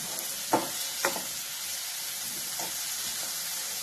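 Chopped vegetables fry in a pan for aloo poha fry vada, a bright steady hiss of sizzling oil with a couple of quick, sharp stirring scrapes near the start and softer ones later, close and alone.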